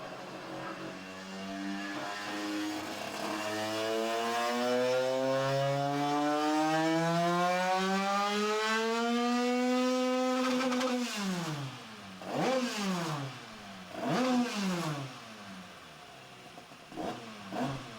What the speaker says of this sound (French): le banc nous sert à ça prioritairement, à régler des moteurs